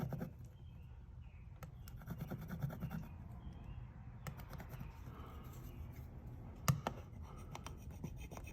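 A pick scratches the screen of an iPhone 4 during a hardness scratch test, making faint, close rasping strokes with occasional sharp ticks over a low steady background.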